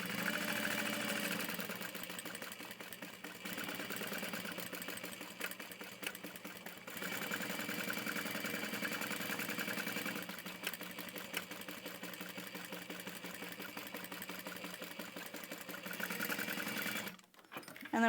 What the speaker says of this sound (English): I'm going to just baste all that together around the outermost edge